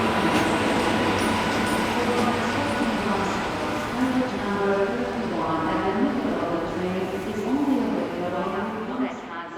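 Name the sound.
train at Budapest-Nyugati station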